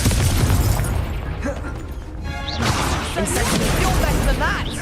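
A Confringo fire spell bursts in the Hogwarts Legacy video game amid loud, continuous battle noise, with rumbling booms and crackling impacts layered over game music and brief voices.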